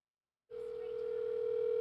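A steady telephone tone starts abruptly after a short silence and holds unbroken to the end, a clean single pitch heard through a phone call.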